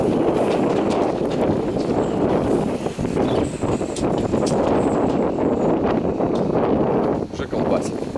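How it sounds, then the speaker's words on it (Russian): Strong wind of about 40 km/h at Seaview Harbor Marina roars and buffets the microphone in a constant heavy rush, with boats moored nearby. "Сейчас вот километров 40 где-то в час ветер"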